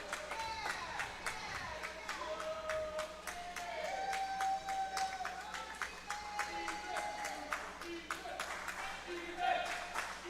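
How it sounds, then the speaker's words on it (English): Swimmers shout and cheer from a distance at a high school swim meet between Normal West and Peoria Notre Dame, with scattered claps and hard echoing slaps over a reverberant pool hall. Faint voices carry through the noise. "you can hear all the swimmers from not just Normal West, but Peoria too, cheering him on"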